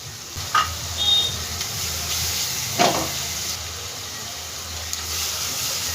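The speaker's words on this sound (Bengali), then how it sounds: "ভালো করে একটু ভেজে নেবো আগে" Chopped capsicum and onion fry in a pan with a steady, close sizzling hiss, broken by a few brief stirring scrapes.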